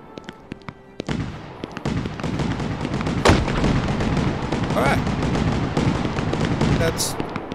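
Fireworks burst in the middle of a city road in the video game Fireworks Mania, with a rapid barrage of loud cracks and booms, a sharp bang near the middle and crackling fizz continuing throughout.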